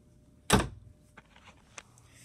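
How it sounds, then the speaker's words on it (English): A door opening in a dark basement setting, a sharp loud creak-thump burst followed by a few fainter clicks and knocks as it swings, alone with no talking. "I found another door down here, too. I'm going to go in it."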